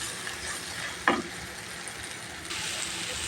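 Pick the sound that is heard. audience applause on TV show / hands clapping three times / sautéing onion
sautéing onion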